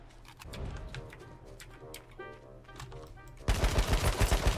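H1Z1 King of the Kill gunfire, heard as a quick string of loud close shots near the end, following a stretch of other game sounds and low voice-like noise.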